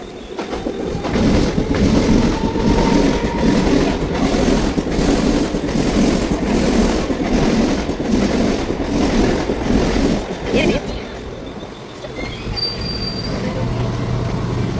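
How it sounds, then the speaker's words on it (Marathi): A fast local train rumbles loudly into platform four of a station near Dombivli, wheels screeching and clattering for several seconds before easing off, leaving the station's background hum. "जाने वाली तेज लोकल थोड़े ही समय में क्रमांक चार पर आ रही है"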